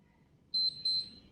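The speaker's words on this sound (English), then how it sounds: "Listen for that beep, almost there." A HIIT workout interval timer gives two short, high, electronic beeps in quick succession, clear against a quiet background.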